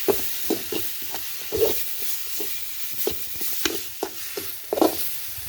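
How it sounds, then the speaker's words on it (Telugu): Chili powder, coriander powder and turmeric frying in a pan for a bitter gourd curry, with a soft sizzle beneath irregular stirring scrapes and taps of a spoon against the pan, close by and with no talk. "అన్నీ కొంచెం అలా ఫ్రై చేసేస్తున్నాను"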